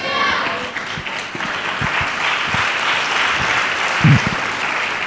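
Steady applause from a church congregation during a live sermon fills the space, dense and continuous with a few louder claps standing out near the end.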